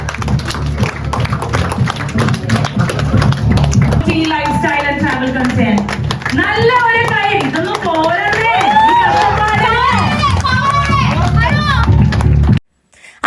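A standing audience at a YouTube creator collective event in Kochi claps in a dense, continuous burst, with cheering, children's voices and crowd chatter layered over it before it cuts off abruptly.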